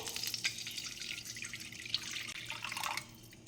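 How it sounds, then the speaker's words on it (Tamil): Water is poured into a pan of ghee with roasted cloves, cinnamon and cardamom, a steady close splashing stream that runs for about three seconds and then tails off. "தண்ணியை ஊற்றிக்கிறேன்."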